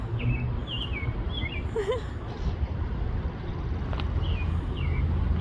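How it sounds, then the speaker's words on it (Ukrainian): Scattered high chirps and short whistled bird calls ring out in Calgary in spring over a steady low rumble of outdoor background noise. "Пташки співають."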